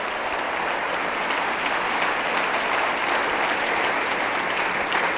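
A church congregation breaks into sustained applause at a Spanish-language sermon, a dense, even wash of many hands clapping at steady loudness with no talk over it.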